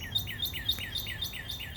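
Small bird chirping in a fast, even series of about seven high notes, each spaced roughly a quarter second apart, fairly faint against a low background hum with no talking.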